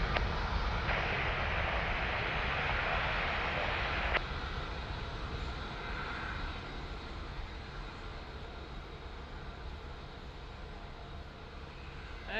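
An airliner departs from Lisbon Airport, its engines roaring loud and broadband at first, then easing into a sustained, gradually fading rumble as it climbs away.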